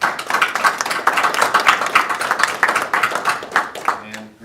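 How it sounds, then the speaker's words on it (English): Audience at a school board of education meeting claps in a brisk, dense burst of applause lasting a few seconds, fairly close, fading out at the end. "So would you please join me in giving him a round of applause."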